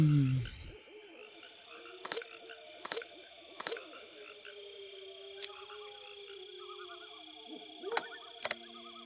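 An owl hooting in the hidden object game Lost Lands, soft repeated hoots over a quiet ambient game backdrop with scattered clicks.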